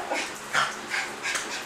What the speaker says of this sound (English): This is my little mama dog.